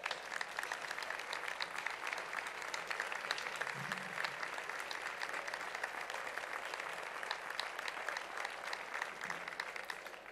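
An audience at a civic honours and distinctions ceremony in Valdepeñas applauds an agricultural technician receiving a merit award. The clapping is dense and sustained at an even level for about ten seconds. No voices come through.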